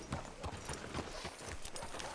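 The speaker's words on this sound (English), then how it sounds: "Hitch your horse up here." Horse hooves clopping in the video game Red Dead Redemption 2, a steady, rhythmic gait, fairly close and even in loudness, with no voices over them.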